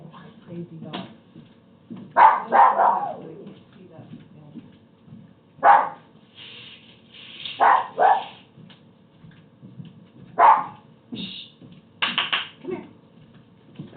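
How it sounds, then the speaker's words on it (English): Dogs bark at the mailman indoors in scattered loud bursts and yips with quiet gaps between, while a person talks over them. "And my dogs are going to make me crazy. Oh, the mailman is here. That's why they're going crazy."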